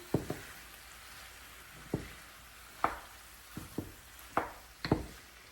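Steak and broccoli stir fry with oyster sauce sizzles gently in a pan while being mixed, with a series of distinct knocks and scrapes of a utensil against the pan spaced irregularly over a quiet frying hiss.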